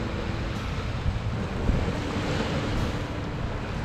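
Surf rolls in on a Florida beach in a steady, full wash of breaking waves, with wind rumbling against the microphone and no one speaking.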